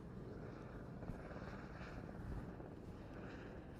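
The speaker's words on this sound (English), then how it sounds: "there's the police helicopter flying around" A police helicopter patrols over a city business district during a one-day cricket match, its faint distant rotor thrum and low rumble sustained throughout, with wind buffeting the microphone.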